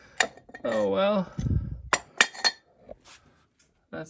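A broken drinking glass gives off a few sharp, bright clinks at close range, with a voice sounding around them.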